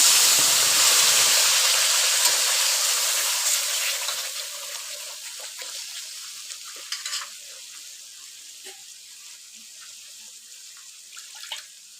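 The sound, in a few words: ground spice paste sizzling in hot pan for rohu fish curry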